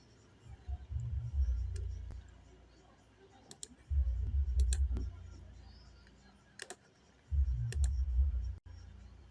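Computer mouse clicks while setting up an account on a trading chart platform, a few sharp clicks spread across the clip between bursts of low rumbling handling noise.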